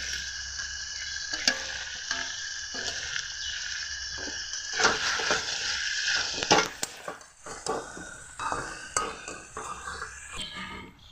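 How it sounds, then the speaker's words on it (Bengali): Chicken leg pieces cooked with ground garlic, ginger and dry and green chili pastes being stirred in a pan, with a steady sizzle and scraping spoon strokes against the pot, close up. "এখন নাড়াচাড়া করে দিচ্ছি"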